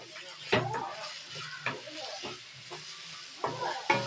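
Crushed garlic sautés with onion in a pan for kappa biryani, a soft sizzle broken by repeated scraping stirs of the spoon at uneven intervals, close and moderately quiet.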